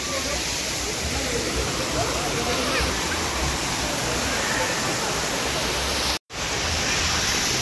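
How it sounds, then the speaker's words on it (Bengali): Waterfalls at Rock Garden in Darjeeling, a loud, continuous roar of falling water that fills the scene, briefly cut off near the end before resuming. "পুরোটাই রক গার্ডেন, চারদিক থেকে ঝর্ণার জল পড়ছে"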